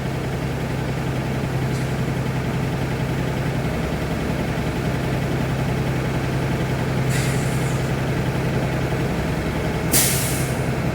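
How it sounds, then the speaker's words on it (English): Bluebird school bus idling with a steady low engine drone, broken by sharp air brake hisses from the governor cutoff: a brief faint one early, then two louder bursts near the end. "we're going to hear that sound, psst. And that is when our vehicle has reached its governor's"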